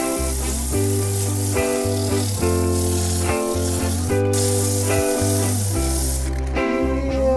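Sandpaper works a wooden bowl spinning on a lathe, giving a continuous close hiss over the machine's humming tones, which shift in short steps throughout.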